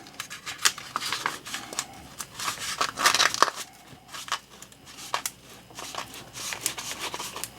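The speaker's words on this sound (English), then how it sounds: "I'm going to cut the cedar off though" Cedar wood being cut by hand for a cigar tube survival kit, a run of close, rough scraping and crunching strokes with short bursts and brief pauses.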